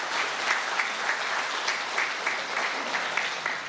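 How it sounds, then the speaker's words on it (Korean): Steady applause from an audience at an independence activist award ceremony in Daegu, dense, even clapping filling the whole moment with no voices. "다시 한번 큰 박수 부탁드리겠습니다"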